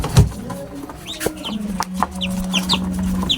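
Chickens clucking near a truck alongside chicks and eggs, short repeated clucks and chirps over a low steady hum, fairly close and alone without talk.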